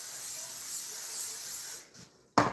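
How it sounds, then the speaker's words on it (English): Aerosol can sprayed in a home kitchen while cooking, a steady loud hiss lasting nearly two seconds, then a brief pause and a short second burst, with no talk over it. "I'm going to spray this."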